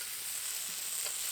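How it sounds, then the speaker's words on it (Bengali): Previously fried potatoes go into a pan with a spiced banana-stem dish and give a brief, soft, steady sizzle. "এখন এই ভেজে রাখা আলুগুলো দিয়ে দেবো।"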